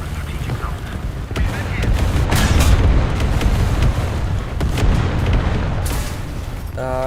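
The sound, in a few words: artillery strike explosions in video game War Thunder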